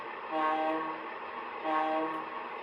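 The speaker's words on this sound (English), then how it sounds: "this is the first MTH locomotive here" An MTH model train locomotive lets out two sustained horn blasts over a faint running hum, each about a second long, heard close and clear.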